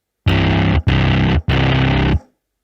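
Distorted synth layered across three octaves in Logic Pro, three thick, buzzing sustained notes played in quick succession, loud and close with no voices.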